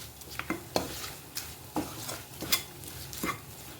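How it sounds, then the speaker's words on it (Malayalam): A spoon stirring chilli powder and fenugreek in a pan while making mango pickle, giving a run of light scraping and clinking strokes at a steady, fairly quiet level with no talking. "എന്നിട്ട് നന്നായിട്ടൊന്ന് ഇളക്കി കൊടുക്കുക."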